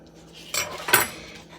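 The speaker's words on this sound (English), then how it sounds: "I usually just use a knife to cut it off." Butter for chocolate chip cookie dough being cut with a knife, two short scraping clinks of metal on a dish, close and clear in a quiet kitchen.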